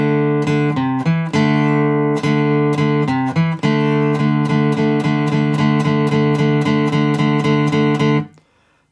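Strummed guitar plays a steady, rhythmic intro of The Beatles' "I Want to Hold Your Hand", a few sharp chord changes early on, then ringing chords until it cuts off near the end.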